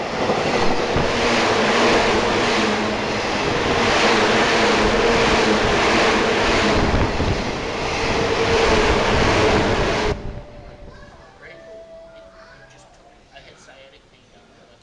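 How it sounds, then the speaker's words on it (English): A train pulls into a station in Odawara and brakes, a loud broad rush of rolling and braking that stops abruptly after about ten seconds, leaving quiet surroundings with people talking. "Okay, now comes our train. Okay, this one's putting on the brakes."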